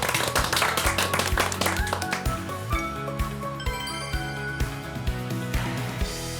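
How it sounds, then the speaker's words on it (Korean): An audience applauds at a talk show about German division and reunification, a dense burst of clapping with some clinking and tapping mixed in. "박수를 쳐야 도록 하겠습니다"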